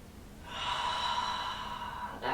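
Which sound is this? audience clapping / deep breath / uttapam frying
deep breath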